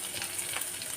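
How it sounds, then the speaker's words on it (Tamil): Cashews, ginger and curry leaves sautéing in ghee for rava pongal, a steady soft sizzle with faint crackle running evenly through the short moment, no voices. "இது இந்த நெய்யிலே நல்லா கொஞ்சம் வதக்கிடுவோம்."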